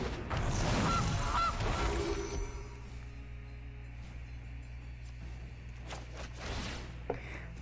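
Video game honk for a goose card in a Magic: The Gathering match, a loud cartoonish goose honking burst at the start, fading into quieter game ambience with faint clicks afterward.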